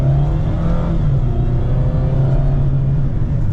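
A 2024 Mazda MX-5 Miata RF Grand Touring with a manual gearbox, driven in sport mode: a steady, close engine drone with low rumble and faint whir, holding an even pitch throughout with no talk.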